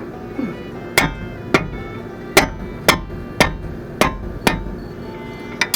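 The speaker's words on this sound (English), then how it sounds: "I'm going to take a hammer and pick this thing loose" Hammer blows knocking a seized front brake part loose on a 1992 Nissan pickup during a brake and wheel bearing job: about nine sharp metallic whacks at uneven intervals, loud and close, with no talking.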